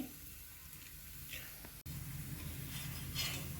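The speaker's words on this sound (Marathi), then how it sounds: "दुसऱ्या बाजून देखील आपल्याला एक ते दोन मिनिट हे छान परतून घ्यायचं आहे" A fasting-style thalipeeth fries in a pan with a soft, steady sizzle and hiss, fairly quiet and close, with a brief sharp break midway and someone talking over it.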